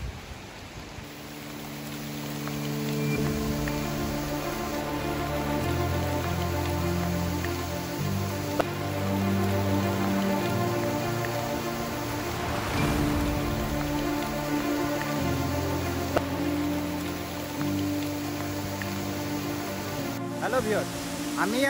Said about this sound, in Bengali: স্টিল নাও বৃষ্টি হচ্ছে